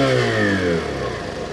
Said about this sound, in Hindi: एग्जॉस्ट नोट आप सुन लीजिए,